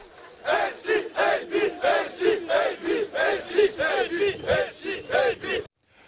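A large crowd of football fans marching through the street from the stadium to the city centre chant slogans in loud, rhythmic, repeated bursts, many voices shouting together in a steady cadence that stops abruptly at the end.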